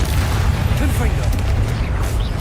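Confringo blast spell explosions in Hogwarts Legacy, a steady run of low booming bursts over dense game noise, with faint voice-like tones mixed in.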